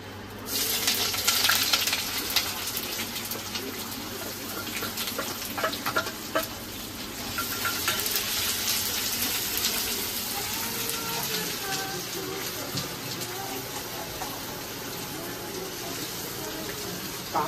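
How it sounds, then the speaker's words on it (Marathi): Onion fries in a pan for a spicy Sunday chicken curry, with a loud, continuous sizzle broken by occasional stirring clatter and a faint voice in the background. "कांदा टेकलाय मस्त पैकी"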